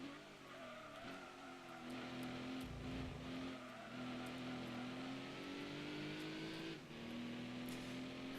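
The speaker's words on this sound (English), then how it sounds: "It kind of sounds like a toned-down Skyline engine from Need for Speed Underground" A tuned car in Gran Turismo 2 races with a steady engine whine that climbs through the gears, with brief tire squeals and skidding under it.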